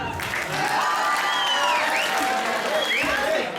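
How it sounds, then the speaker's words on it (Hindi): A crowd claps at a college fresher party in Haripur, Manali, producing a continuous wash of applause with whistles and shouting voices rising over it throughout. "तालियां बजाओ सब"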